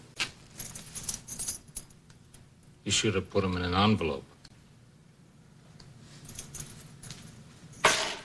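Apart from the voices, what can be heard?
keys jangling, restaurant keys handed over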